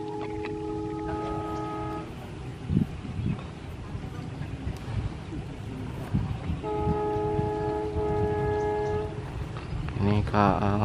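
Indonesian passenger train KA 427 passes by, its horn sounding twice as sustained chords over a steady rumble of wheels on rails, with people talking nearby.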